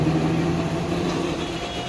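An e-rickshaw's electric motor runs steadily in first gear with the accelerator pressed, a close, even whirring drone that holds constant without pauses.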